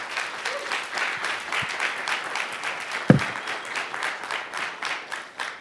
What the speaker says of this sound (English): A round of applause for Jose.